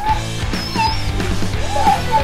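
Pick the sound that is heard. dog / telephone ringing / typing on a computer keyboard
dog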